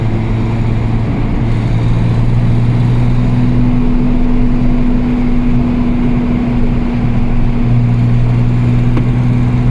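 A Jaguar E-Type's engine pulls steadily under acceleration, a loud, smooth droning note that holds and shifts pitch over several seconds, heard from close by with no talk over it.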